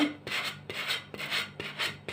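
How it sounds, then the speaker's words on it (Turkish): Sandpaper rubbed downward along the edge of a plate to remove leftover decoupage paper, making five close, rhythmic rasping strokes with brief pauses between them. "bu kenarda kalan kağıtları da şöyle zımparayla arkadaşlar aşağıya doğru"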